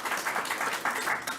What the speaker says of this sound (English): Let's give Mayor Byron Brown a big round of applause.